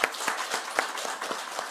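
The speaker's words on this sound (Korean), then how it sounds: "우리 그런 의미에서 하나님께 영광의 박수 한번 돌렸으면 좋겠습니다." A few scattered hand claps from a church congregation at a first-anniversary worship service ring out in an irregular rhythm, sparse and fairly close, with no talking over them.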